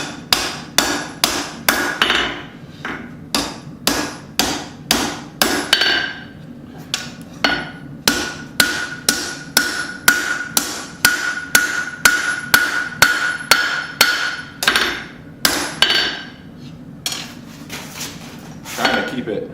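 Hammer forging and thinning a Bowie knife handguard, a long series of loud ringing metallic blows in a steady rhythm, with brief pauses between bursts of strikes.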